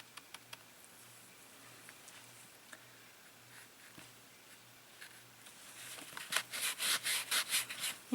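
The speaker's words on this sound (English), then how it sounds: "You can actually kind of rub it with your towel" Towel rubbing wet paint across a lotus petal painting makes faint, sparse scuffs at first, then a run of louder, rhythmic rubbing strokes near the end, close and alone.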